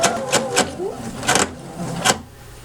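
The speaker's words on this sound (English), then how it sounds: "Now I've got that first row of basting stitches done." A sewing machine runs a row of basting stitches while gathering fabric, in a few short, close whirring bursts separated by brief pauses.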